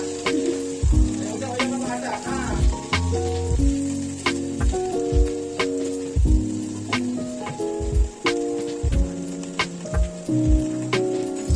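Chopped, washed bottle gourd greens hit a hot pan and sizzle steadily while being stirred, with repeated scraping knocks of the utensil in an irregular rhythm, close and fairly loud, no talking.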